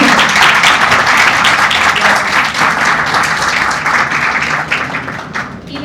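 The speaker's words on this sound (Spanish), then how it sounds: "un fuerte aplauso para ella." Enthusiastic applause from a crowd, dense and sustained, gradually thinning toward the end.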